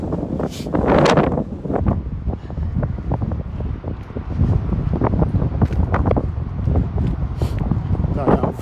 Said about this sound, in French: Je fuis là parce que le vent là ne rigole pas.